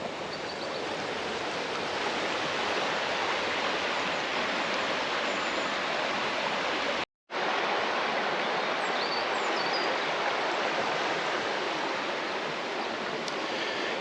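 A river on the Devon–Cornwall border flows steadily in a loud, broadband rush of water, close and continuous, with a brief cut to silence midway.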